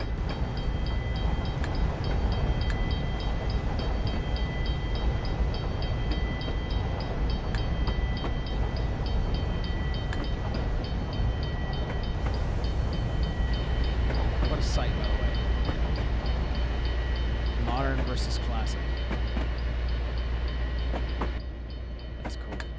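Trains run on rails in Train Simulator 2020 with a loud, constant rumbling roll, steady wheel clatter, and a brief rising squeal near the end, before the noise drops slightly.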